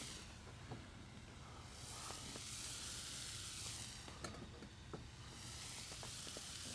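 Raisins sizzling in a pan of lightly caramelizing sugar for a pear chutney, a steady, fairly quiet hiss with occasional small pops and stirring ticks throughout.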